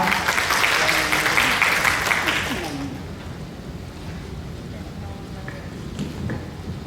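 Participants at a Thai food sanitation training course give a round of applause, loud dense clapping that fades after a few seconds into quiet room tone with faint voices.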